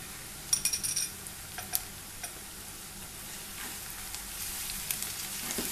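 Ginger garlic paste frying with onions in a pan makes a soft, steady sizzle, with a few light clicks from a utensil early on and otherwise quiet, even hissing.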